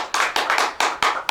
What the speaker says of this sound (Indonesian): Boleh kasih tepuk tangan ya